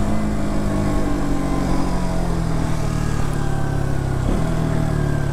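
A KTM RC200 sport motorcycle being ridden, its engine a loud, steady drone heard close up with a smooth pitch shift near the end as the revs change, and no talking.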